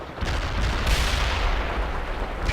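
Heavy gunfire from World in Conflict's Insurgents mission: loud, continuous bursts of shooting and booming explosions packed close together, with no talk over them.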